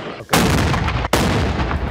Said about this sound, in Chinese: 火炮连续发射，分秒未曾停歇，爆炸声响彻云霄。